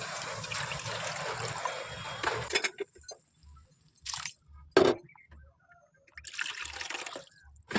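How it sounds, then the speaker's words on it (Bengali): About two bowls of water pour into a pot of rice in a home kitchen, a steady close splash for a couple of seconds, followed by quieter clinks and faint handling noises. "তো দিয়ে দিলাম জল।"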